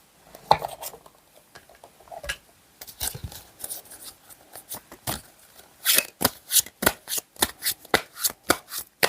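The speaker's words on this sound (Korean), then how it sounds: "카드 두 장만 더 뽑을게요." Tarot cards are shuffled and drawn during a love reading, making a close run of crisp, papery snaps and riffles that grow louder and more rhythmic toward the end, with no talking.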